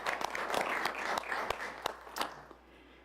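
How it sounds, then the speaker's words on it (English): A modest round of applause at a city council meeting, with sharp individual claps over a lighter patter that trails off near the end. "let's give a big round of applause to all of them"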